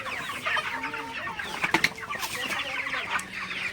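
Broiler chickens about 33 days old cluck and squawk nearby in an uneven chorus, with a few sharper, louder calls breaking through the steady murmuring.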